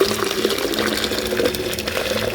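Hot water is poured into a flask during a gold-refining wash, giving a steady close splashing and filling rush that lasts throughout without a break.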